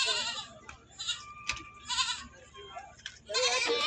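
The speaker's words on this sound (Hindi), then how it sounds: "तो काफ़ी बढ़िया बकरा है भाई" Malwa breed goats bleat at a crowded livestock market in Dewas, several harmonic calls rising over a busy background, with faint voices present.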